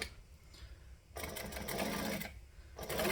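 A sewing machine set to a long stitch length runs across strap ends in two close bursts of fast, whirring needle chatter with a brief pause between them, after a quiet start.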